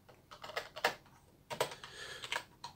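Quiet clicking of keys on a computer keyboard, a few short bursts of close, crisp keystrokes with brief pauses between them.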